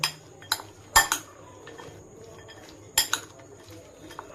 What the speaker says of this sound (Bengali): দিয়ে দেবো এক চামচ টমেটোর কেচাপ আর দিয়ে দেব কিছুটা চাট মশলা দিয়ে এটাকে ভালো করে মিক্সড করে নেব